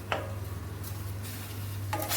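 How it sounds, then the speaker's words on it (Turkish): Scraping clinks of a utensil stirring meat in a heated pot, a couple of sharper knocks against the metal over a low steady hum. "Şöyle karıştırıyorum"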